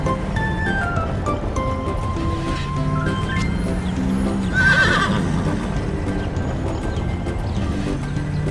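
A horse whinnies loudly amid a busy outdoor din, with a steady wash of background noise and occasional knocks that may be hooves.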